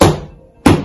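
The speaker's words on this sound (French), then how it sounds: "Qu'est-ce que c'était? Un coussin." A cushion struck twice, giving soft, dull thumps: one at the start and another after a brief pause, close and muffled with no ring.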